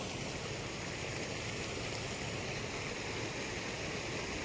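Water runs through a road that beavers had flooded and that has been opened back up. The rushing, hissing flow is steady and continuous, with no pauses or other sounds on top.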